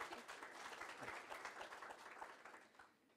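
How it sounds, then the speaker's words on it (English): A crowd at the Living Murray 20th anniversary celebration applauds a welcome speaker, a soft, continuous patter of many hands that sounds distant and faint, then thins out toward the end. "Big round of applause for our beautiful sister, Sue Hutchings."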